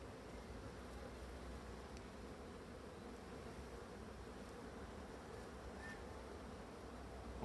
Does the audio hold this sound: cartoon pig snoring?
no